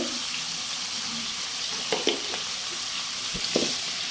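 Onions fry with a steady broadband sizzle in a pan while salt goes in for a broiler chicken bhuna, with a few soft scraping stir clicks near the end, close and alone with no talk.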